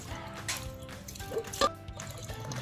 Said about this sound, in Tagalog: Among butang ang tubig para isabaw no.